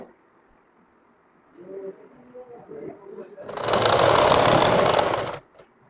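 A sewing machine stitching a pajama with a thick elastic waistband runs in one loud, steady burst of about two seconds, following a stretch of quieter murmuring talk.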